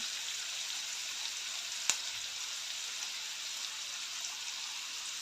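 Chopped onion and tomato fry in a pan for a home-style cabbage dish, giving a soft, continuous sizzle with one small tap of a utensil, with no talking.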